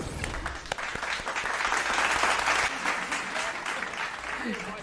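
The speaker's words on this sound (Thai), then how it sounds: "ปรบมือครับ" A small group claps steadily for several seconds, a dense patter of hands close by with a few voices underneath.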